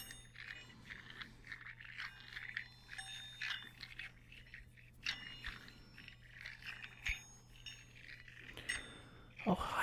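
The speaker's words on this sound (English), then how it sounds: "right now I'm playing with these metal balls that are kind of really heavy, but they have a little bell" Soft metallic jingling and tinkling of small bells inside rolling metal balls, intermittent and close, with light scraping and clinking throughout.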